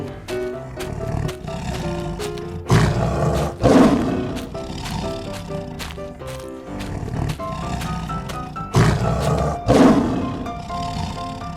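A tiger roars repeatedly near a lake in a wild setting, deep loud growling bursts rising and falling in several waves, close and alone without talk.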